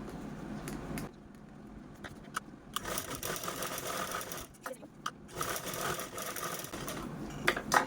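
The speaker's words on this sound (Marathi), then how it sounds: "सर्वात अगोदर मी कडेकडेने स्टिच करते" A sewing machine stitching along the edges of a shopping bag, running in quick mechanical bursts with short pauses between, close and fairly loud, with a voice talking faintly in the background.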